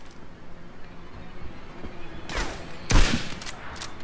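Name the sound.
gunfire in Medal of Honor: Airborne video game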